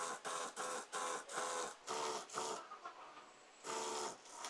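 A sewing machine runs in repeated bursts while stitching the side seam of a high-low umbrella palazzo, each run of rapid stitching lasting about half a second with short pauses between, fairly loud and close with no talk.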